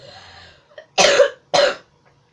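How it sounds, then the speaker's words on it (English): Two harsh, loud coughs from a person with a bad cough, close and spaced about half a second apart, after a short quiet breath-like lead-in. "I've got bad cough"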